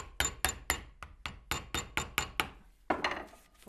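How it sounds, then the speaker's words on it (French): A hammer strikes a screwdriver to drive a bolt through Kevlar fibres, about a dozen sharp metallic blows in a quick, even rhythm, loud and close, with a brief pause before the last few hits. "il vous reste la bonne vieille méthode du marteau et du tournevis"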